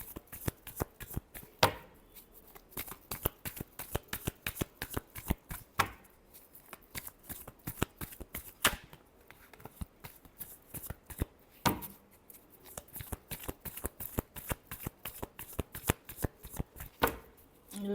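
Tarot cards being shuffled by hand, a long run of quick crisp riffling and slapping flutters close up, repeating in uneven bursts with no talk.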